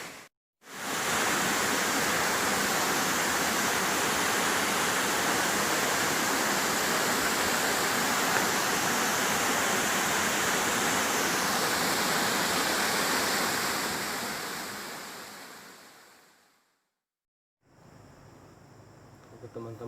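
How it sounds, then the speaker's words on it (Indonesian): Rumede waterfall in Kunyi village, Polewali Mandar, roars as dense, loud rushing water for about fifteen seconds. It fades out, falls briefly silent, then returns softer. "itulah tadi beberapa gambaran mengenai bentuk dari air terjun"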